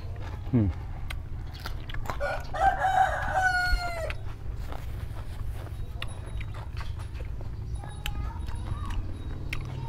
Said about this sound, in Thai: ฟังเสียงไก่ขันไปนำมึงพี่น้อง